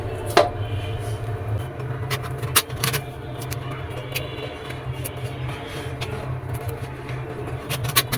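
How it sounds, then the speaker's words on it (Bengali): A knife chops mangoes on a board at home, sharp quiet clicks scattered irregularly over a low steady hum, with a few louder knocks. "আমগুলো আমার কাটা হয়ে গেছে"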